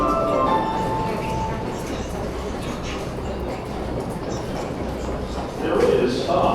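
A New York City subway 7 train bound for Flushing Main Street rolls into Roosevelt Av-Jackson Heights station, a steady rumbling roar with metallic clinks and a louder screech of wheels near the end.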